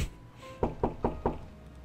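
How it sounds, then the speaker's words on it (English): Knocking on a door in a video game: four evenly spaced, solid knocks, close and fairly loud, following a brief faint tone, with no voices. "A knock."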